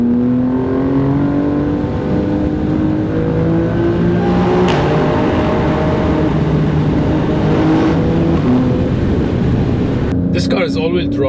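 Alfa Romeo Stelvio Quadrifoglio's 2.9-litre twin-turbo V6 revving steadily, with rising and falling engine tones sustained throughout, loud and close, with a person talking over it.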